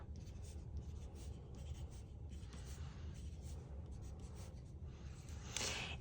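A 3B pencil writing numbers on paper, a close scratchy scribble in short strokes with brief pauses, quiet and alone.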